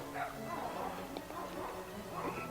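A distressed dog on a property with animals whimpers and gives short yips and woofs, fairly close and moderately loud over a steady background hum, with faint voices.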